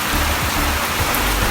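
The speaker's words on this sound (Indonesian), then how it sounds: "Disambut dengan hujan." Steady rain falls near Candi Cetho at the start of a Mount Lawu trek, a dense, even patter of drops on surfaces with no voices.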